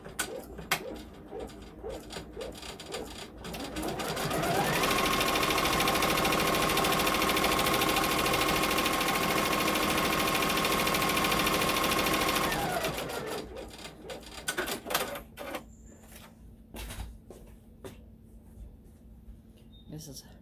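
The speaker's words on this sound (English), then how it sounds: "Next is the tub placement stitch." A sewing machine runs a placement stitch on a quilt block, whirring loudly and steadily for several seconds before stopping, with quieter handling noises before and after.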